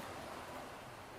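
Ocean waves wash steadily in the background as a broad, continuous surf roar with no distinct breaks, fairly faint and without talk.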